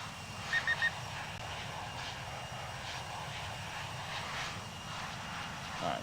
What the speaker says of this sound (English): This plane is a loud one, I'll tell you that.